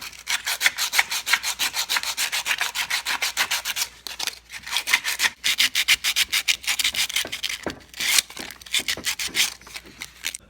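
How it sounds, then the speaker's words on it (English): Steady rhythmic rubbing and scraping on the magnet surfaces of a Delco Remy starter from a Massey Ferguson 50 tractor, close and loud, with quick repeated strokes and a short pause near four seconds. "I'm going to clean up the magnet surfaces."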